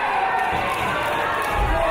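Arena crowd at a British professional wrestling show, a steady broad roar of cheering and noise that fills the whole stretch, with a brief swell near the end.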